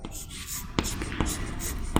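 Chalk or marker strokes on a classroom board while a physics equation is written, a few soft scratches with sharper taps, quiet and close, without talk.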